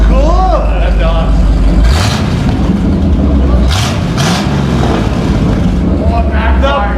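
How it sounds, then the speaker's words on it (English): A straight-piped Mini Cooper revs loudly nearby, its exhaust rising and dropping with a few sharp crackling pops between revs, while people talk over it. "Oh, backfire. The freaking crackle."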